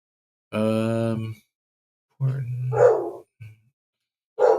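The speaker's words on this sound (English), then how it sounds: "Sorry, that's my dog." A pet dog barks in a home, giving a loud drawn-out bark followed by a few shorter barks and yelps, close to the microphone.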